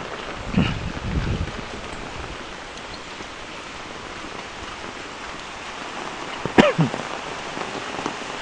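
Heavy rain pours down steadily beside an open drainage canal fed by runoff from a highway above, a dense continuous hiss with wind, and a few louder splashes or knocks early on and near the end.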